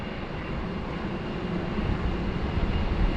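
Rex turboprop airliner passing at Sydney Airport in rainy weather, a steady broadband engine roar that slowly grows louder across the clip, heard alone without voices.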